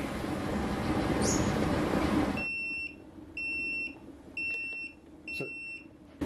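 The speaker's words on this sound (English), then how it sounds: "it beeps to say you're at 100 degrees" A home-brewing controller's steady electronic beep repeats in short, evenly spaced pulses, signalling the wort has reached 100 degrees at the boil, after a burst of loud rushing noise cuts off.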